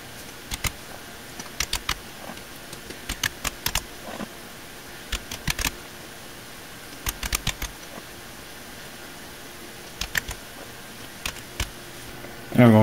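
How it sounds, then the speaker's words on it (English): Fingers tap a product key into a computer keyboard, giving short, irregular clusters of soft clicks over a quiet room hum, with a louder bump at the end. "And I'm going to type in the key."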